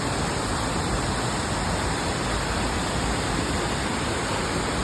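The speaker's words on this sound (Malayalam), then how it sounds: "വാട്ടർഫാൾസ് ഇതന്നെയല്ലേ മേളില്" Ezharakund waterfall pours in a constant, dense roar, loud and close, an even wash of falling water with no pauses.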